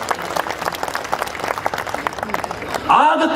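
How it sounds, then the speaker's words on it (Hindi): Audience clapping at a Hindi comedy poetry show (hasya kavi sammelan), a steady moderately loud patter of applause that swells slightly near the end. "यह बहुत अच्छी पंक्ति थी, इस पर तालियां कम बजी हैं आपकी।"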